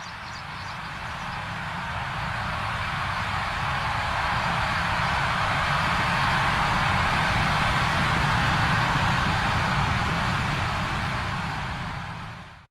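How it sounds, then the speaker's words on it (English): An approaching army on horseback blowing Aztec death whistles: a dense, harsh shrieking roar with a rumbling low end that swells steadily louder for about twelve seconds, then cuts off abruptly. "That is the sound of an approaching army all on horseback playing the Aztec death whistles."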